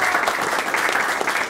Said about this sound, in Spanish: Aplauso para Omar Alonso.